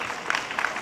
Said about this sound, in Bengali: একটু হাততালি হোক জোরে প্লিজ